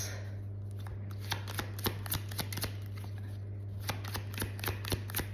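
Romance angel cards being shuffled by hand, a soft papery riffling with quick rhythmic flicks and taps, close and quiet over a low steady hum.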